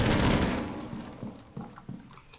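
Gunfire in Rainbow Six Siege aimed through a cabinet, with a loud opening burst fading out, then several sharp separate shots with splintering impacts.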